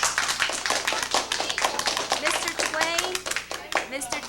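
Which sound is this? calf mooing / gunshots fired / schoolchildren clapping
schoolchildren clapping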